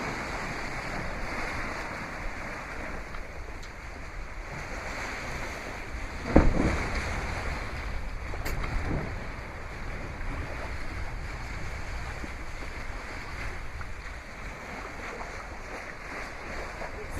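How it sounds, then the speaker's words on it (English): A sailboat under sail rides a low ocean swell on the way to Grays Harbor, with wind rushing and water washing steadily along the hull, plus one brief knock partway through. "On our trip to Gray's Harbor, we got the sails up and low swell, different directions but low."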